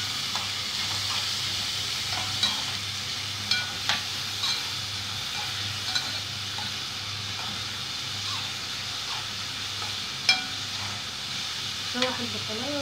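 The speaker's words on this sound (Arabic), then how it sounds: "شوح البصلايه وارجع لكم تاني" Sliced onion sautés in a pan, a continuous soft sizzle with occasional clinks and scrapes of a stirring utensil, fairly quiet and steady.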